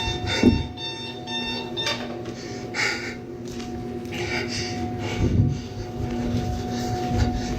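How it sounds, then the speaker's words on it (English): An alarm going off while someone walks through a building at night, sounding as repeated tonal beeping bursts over a continuous low rumble and clatter, fairly loud and steady throughout. "and now the alarm's going off."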